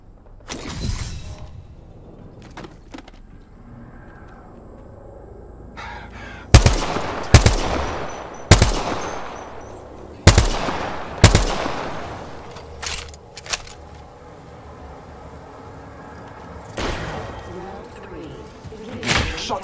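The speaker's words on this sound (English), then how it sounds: "Shots fired at me." Apex Legends gunfire: sharp loud shots crack in clusters, some rapid bursts, with thuds and quieter distant shots between and in-game voice lines heard alongside.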